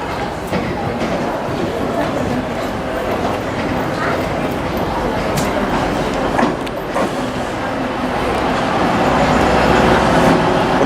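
Interior of a moving train running from Sheffield to Manchester Airport, a continuous rumbling ride noise with faint rhythmic rattles and a few brief clunks, swelling slightly louder toward the end.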